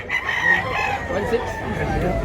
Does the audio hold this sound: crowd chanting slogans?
no